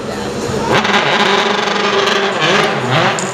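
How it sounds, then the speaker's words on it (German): A BMW M3 DTM race car runs on track, its engine a steady loud drone with revving swells, heard under a commentator's talking throughout. "im BMW M3 DTM, dem neuen, ich finde, sehr gelungenen Auto der Münchner"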